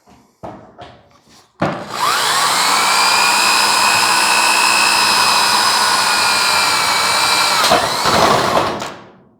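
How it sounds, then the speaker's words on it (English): After a few faint knocks, a powerful drill boring through car body metal for a gas filler opening spins up and grinds steadily for several seconds, a loud high-pitched whine, then winds down and stops. "allow the drill bit to kind of go through slowly"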